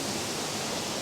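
A waterfall pours in a dense, steady rush of broadband water noise, loud and continuous with no other sounds.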